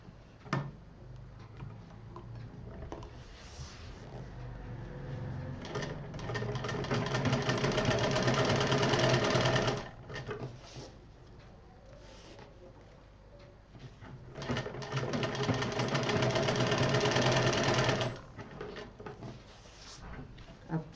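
Sewing machine stitching a long length of fabric piping for a DIY kids' almirah, running in two sustained bursts of rapid mechanical rattling, each several seconds long, with quieter handling pauses between.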